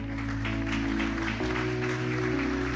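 Congregation applauding for God during a church sermon, a dense patter of clapping over sustained organ or keyboard chords, moderately loud and steady.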